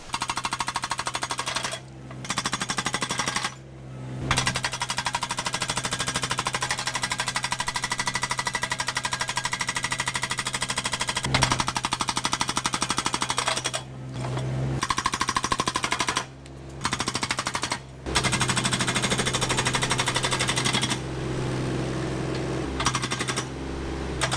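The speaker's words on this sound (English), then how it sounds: "to be able to have enough hydraulic volume to make it hammer very hard" Loud, sustained rapid hammering of a Case hydraulic breaker pounding concrete at full throttle, running in long bursts with a few brief pauses, close by.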